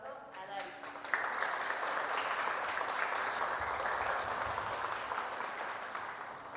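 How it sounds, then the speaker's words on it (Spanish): A conference audience breaks into warm, steady applause welcoming a speaker, the clapping rising sharply after a brief pause and holding at a fairly even, moderate level throughout. "Les pido que por favor recibamos con un caluroso aplauso a Darius."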